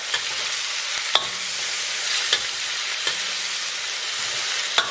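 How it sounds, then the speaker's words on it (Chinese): Beef tripe and seasonings are stir-fried in chili oil in a wok over low heat. A steady sizzle fills the scene, and a spatula scrapes sharply against the pan now and then. "再给它简单煸炒一下"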